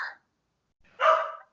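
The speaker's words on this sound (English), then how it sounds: "my dogs are barking" Two short, muffled dog barks sound a moment apart from a little distance, separated by silence.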